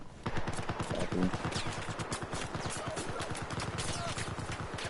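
Rapid, sustained gunfire from Battlefield 4 in a military simulation match, continuous bursts of shots layered densely throughout, with voices talking underneath.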